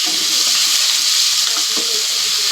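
Pork with garlic and onion sizzles loudly in a hot pan for pancit, a bright continuous hiss with small pops, close and unbroken, with no talk.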